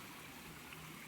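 Water of the Corinta river flowing steadily through a forest, a soft continuous rush and trickle, faint and alone with no voices.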